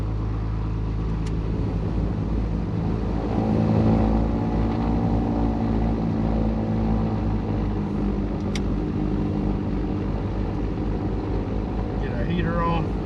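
A cold light-aircraft engine idling at low, held-down RPM, a steady droning hum that stays constant throughout, with someone talking over it.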